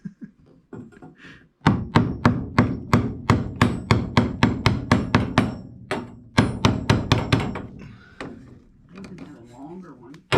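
A screwdriver used as a chisel is hammered to knock bathroom framing apart during a tub installation: a fast series of loud, sharp metallic-wooden strikes in two bursts, with a brief pause between them and a voice at the start and end.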